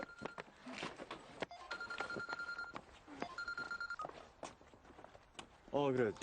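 A mobile phone ringtone plays in repeated tonal bursts, loud and close, with a short stretch of voice near the end.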